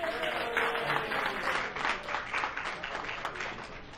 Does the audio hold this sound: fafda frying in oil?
no